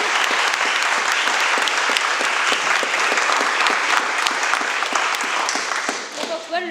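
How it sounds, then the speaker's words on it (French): Audience applause at the final of an eloquence and pleading contest, a dense, sustained burst of clapping from a full room that fades slightly toward the end as a voice begins to speak. "je vais vous demander une salve d'applaudissements pour Monsieur Antoine Dauphin"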